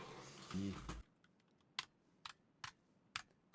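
Sparse keystrokes on a computer keyboard, about six separate clicks at an uneven pace, close and quiet in a still room, following a brief low hum at the start.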